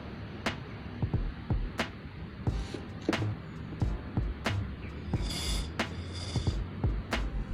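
Aerosol cleaner sprayed through a straw into a Vario scooter's throttle body gives short hissing bursts, mixed with sharp clicks and knocks close by.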